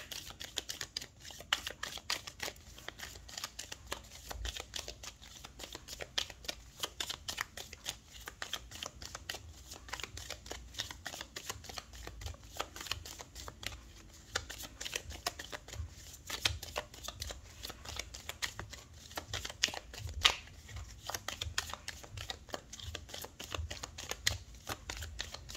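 Tarot cards are shuffled for a reading: quick soft flicks and riffles in an uneven, continuous patter, close but quiet, with no talking.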